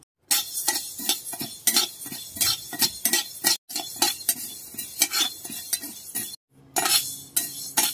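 Fenugreek seeds roast in a pan while a metal ladle stirs them, giving a rapid run of close, bright scraping clinks and clatters, broken by two brief pauses, with only faint sizzle underneath.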